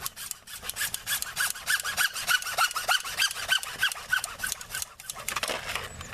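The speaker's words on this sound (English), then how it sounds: "Good hacksaw is key to cutting PVC" A hacksaw cuts through PVC pipe for a back yard sump pump, a close, rhythmic rasp of quick back-and-forth strokes repeating steadily for about six seconds with no talking.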